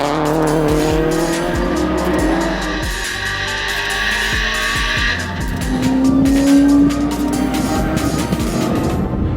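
A Subaru Impreza race car on a track squeals its tires through a long skid as the engine revs and shifts, loud and close throughout.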